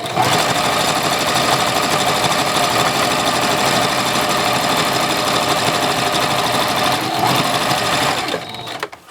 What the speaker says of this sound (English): I'm just going to go right in here with a stitching, get some stitching going on.